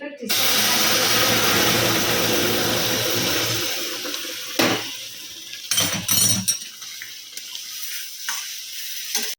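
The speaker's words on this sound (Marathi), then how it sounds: "रवा छान भाजून घेतलाय गरम पाणी टाकते" Hot water poured into a pan of roasted semolina (rava) for sweet shira bursts into a loud, steady sizzling hiss for about four seconds, then settles into scattered bubbling spurts.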